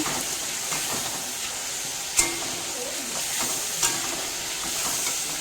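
Steady sizzling hiss of spices frying in a hot pan, with a couple of sharp clinks from a utensil against the pan.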